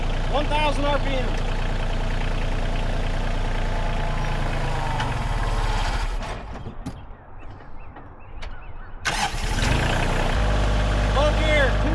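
A Kioti CK or CX compact tractor engine runs in low gear at 1000 RPM with a steady chugging idle close by, dipping into a brief quieter stretch before the rumble returns.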